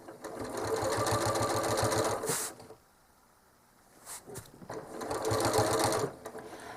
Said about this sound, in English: I'm starting by stitching across the top of my quilt from the previously stitched swirl over to this one.